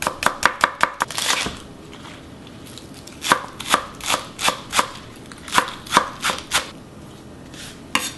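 A knife chops three green onions on a cutting board, sharp close taps in quick bursts, a rapid run at the start then evenly spaced strokes after a pause, with no voices.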